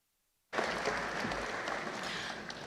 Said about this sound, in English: Graduates, please turn round and join us in a round of applause for those who have made this day